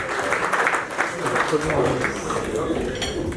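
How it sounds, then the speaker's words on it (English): Audience applause at a charity fundraising event, a short, even burst of clapping from the crowd, with voices faintly mixed in. "Give a round of applause for our first question, please."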